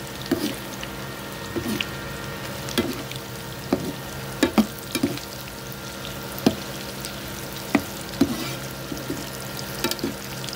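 Dilis anchovies frying in oil until brown, a constant close sizzle broken by repeated scraping and stirring knocks at irregular intervals.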